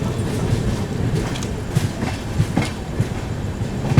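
The 12141 Patliputra Superfast Express rolls along at speed, a loud, close rumble with a steady rhythmic clickety-clack of wheels over rail joints, heard alone.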